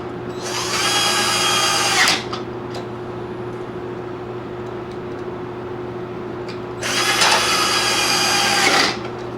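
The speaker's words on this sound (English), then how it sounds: "let's go ahead and put a couple more screws in this dude" Power drill driving screws into an Ikea three-tier shelving unit built as a computer desk: two loud whirring bursts of about a second or two each, separated by a quiet pause with a low steady hum.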